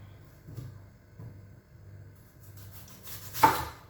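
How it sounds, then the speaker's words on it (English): Firm onions and ginger are rough-chopped with a kitchen knife on a board, making soft, irregular thuds spaced about a second apart. A sharper clatter comes near the end, and no one speaks. "just rough chopping, not anything too fancy."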